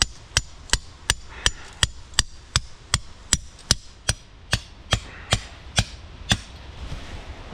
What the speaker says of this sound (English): I'll hammer it.